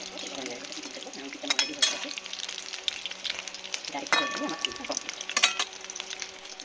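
Stuffed spiny gourd sizzling and crackling in hot oil in a pan, with occasional stirring scrapes and clinks of a utensil against the pan.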